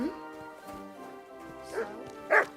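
A dog in Kingdom Come Deliverance II yips and barks in short bursts, two of them louder near the end, mixed with a few brief whimpers and a faint tonal hum underneath.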